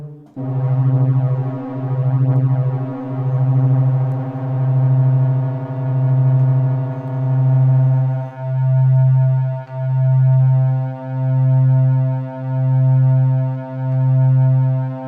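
Synthesizer tone from a Roland MV-8800, a steady pulsing note repeating about once per second, the harmonic texture thickening partway through, loud and alone with no voices.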